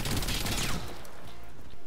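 Short burst of video game gunfire from Warface team deathmatch on the Hangar map, with a DP-12 Gold shotgun, a loud rattling volley that quickly fades into quieter background noise.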